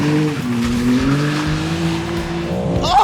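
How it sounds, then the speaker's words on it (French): BMW M4, carbon-bodied and tuned to 1000 hp, revving hard in second gear with rising engine tones, squealing tires and burning brakes, loud and continuous, ending in a sharp high squeal. "J'ai brûlé les pneus, les freins, j'ai tout brûlé."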